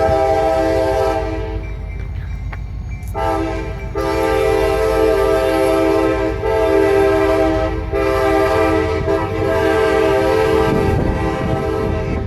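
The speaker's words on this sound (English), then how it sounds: "There's actually a train crossing right now." A passing freight train blows its horn in long, loud blasts with short breaks between them, over the steady rumble of the rail cars, beside an 1899 train depot.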